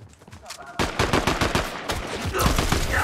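Rapid bursts of automatic gunfire from the video game Fortnite, loud and dense, with repeated sharp shots running almost continuously after a quieter start.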